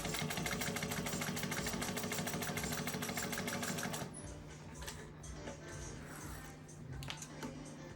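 Juki 154 industrial sewing machine stitching leather, a rapid, loud, rhythmic mechanical chatter for about four seconds, then it stops and only soft handling noises and faint clicks remain.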